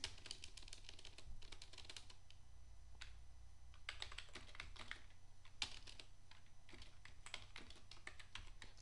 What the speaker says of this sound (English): I can begin to start typing.